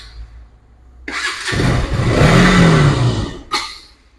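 A KTM RC200 motorcycle engine cranks, catches and fires up, settling into a loud, steady running note with a rising rev before a brief burst at the end.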